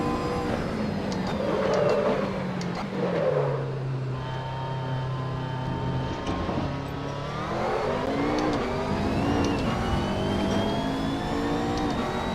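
Race car engine in the Assetto Corsa driving game, a steady drone that drops in pitch, holds low, then climbs again through gear changes, loud and continuous with no talk.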